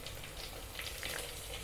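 Garlic and cumin sizzle in hot oil in a pan for a mochai kuzhambu, a continuous close crackling fry with no voices over it.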